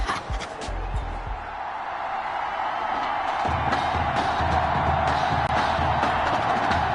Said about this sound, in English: Well, the crowd is loud and on its feet as Ricky Sutherland gets things started.